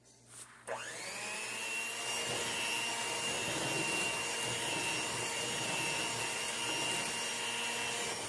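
An electric mixer blends an egg into cheesecake batter for a strawberry cheesecake, starting abruptly after a short knock and then whirring steadily and loudly at close range with no talk.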